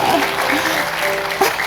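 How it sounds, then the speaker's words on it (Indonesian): Audience applause in a church or conference hall, a steady wash of clapping filling the short moment with a brief louder swell near the end. "Weh, mantap, tepuk tangan dong."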